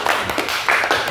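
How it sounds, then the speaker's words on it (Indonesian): A small audience claps briefly after being asked to, a short scatter of hand claps lasting about a second. "Tepuk tangan dulu dong."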